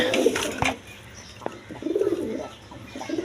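Pigeons kept for sale give soft, low cooing phrases close by, a few short bursts with quiet gaps and a sharp tap near the start.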